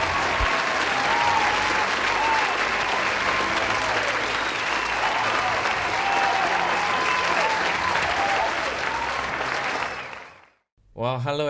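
Loud, sustained audience applause welcoming a speaker at a church commission gathering, a dense wash of clapping lasting about ten seconds before cutting off, followed by a brief voice.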